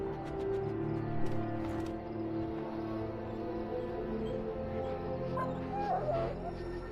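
A dog whimpering and yipping in the fantasy video game Dragon Age, high whines coming in short bursts over a steady musical and ambient game backdrop.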